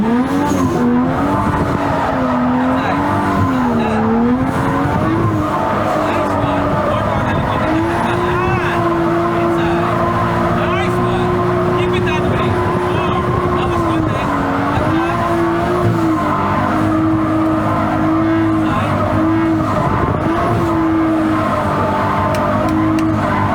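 A Nissan Skyline R33 drifting on a track, its engine droning loud and steady with shifting pitch and tires squealing throughout, close and continuous, with voices talking over it.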